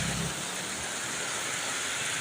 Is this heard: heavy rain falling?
yes